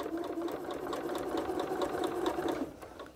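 A sewing machine stitching quilt pieces for a Double Irish Chain quilt, running continuously with a fast, even needle chatter over a steady motor hum, close and fairly loud.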